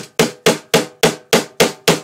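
A hammer drives a nail firmly into place while rewinding a pull-start spring, eight sharp evenly spaced blows ringing out loud and close with no talk.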